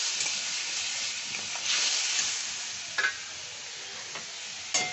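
Spices stirred in a pan with salt and a splash of water, giving a steady close sizzle and hiss with scraping stir strokes and a few sharper clinks, no voices.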